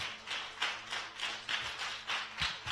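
A church congregation standing to applaud, quiet steady clapping in loose rhythmic waves of claps, faint and somewhat distant, with no voices over it.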